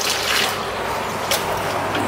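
Water poured from a bucket to flush a squat-style toilet in a Thai washroom, a steady broadband rush and splash lasting about two seconds, close and fairly loud with no talking.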